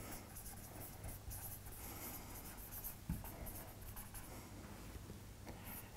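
Pen scratches steadily across paper while an area of parallelogram formula is written, a faint continuous scratching close by with one small tap midway and no speech.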